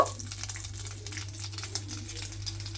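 Spices, black cumin and a slit green chili, going into hot oil left over from frying shrimp, giving a steady soft sizzle with light crackles and stirring taps under a constant low hum.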